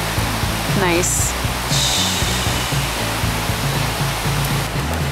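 A babbling brook beside a parked RV in a forest, a constant rushing wash like a waterfall, loud and steady throughout, with a brief spoken word and a short whistle-like sound near the start.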